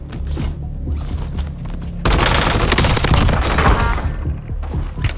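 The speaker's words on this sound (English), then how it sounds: "Incoming shots!" Heavy gunfire erupts in the Warzone battle royale game, a dense burst of rapid shots and booms that starts abruptly partway through and stays loud and sustained until the end.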